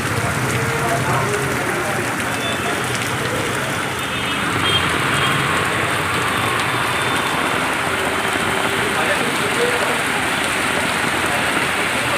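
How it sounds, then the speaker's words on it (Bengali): Heavy rain pours down steadily during a flooding downpour, a loud, dense, unbroken patter close by that fills the whole stretch, with faint voices underneath. "এখন বৃষ্টি এত জোরে দেখো বৃষ্টি পড়ছে"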